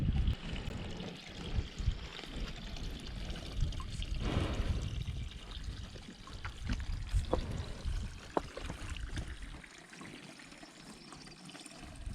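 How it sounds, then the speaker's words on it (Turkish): Water pouring and trickling from a spring fountain beside a forest creek as cows come to drink, a steady close splashing flow with occasional louder gushes, no talking. "Şimdi suya basayım bunlar su içsinler."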